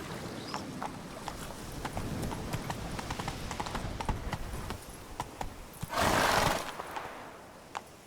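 A horse gallops in the video game The Witcher 3, its hooves pounding out a quick steady clip-clop, with a loud whinny breaking in near the end.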